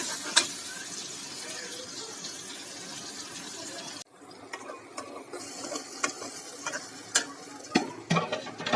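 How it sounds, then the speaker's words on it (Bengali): Dal cooks with green chilies and onion, being stirred in a pot: soft bubbling and scraping, then quieter intermittent stirring clinks and sizzles, close and moderately faint. "আর এদিকে যে ডাল হচ্ছে, আর দেবে যে কাঁচামরিচ আর পেঁয়াজ"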